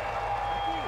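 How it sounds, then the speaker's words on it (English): A huge grandstand crowd at the 2018 Thai MotoGP cheers and applauds the podium: a brief, steady wash of distant crowd noise with a low hum underneath and faint talk over it. "The crowd go mad"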